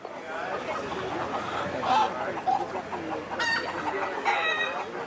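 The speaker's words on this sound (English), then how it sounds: "We've got chickens." Chickens cluck continuously nearby, overlapping calls with a rooster crowing partway through, under a steady background of activity.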